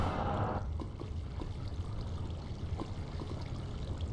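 Steady flowing water in Minecraft on the Technic modpack, a continuous soft rushing wash heard fairly close and alone, with no voices.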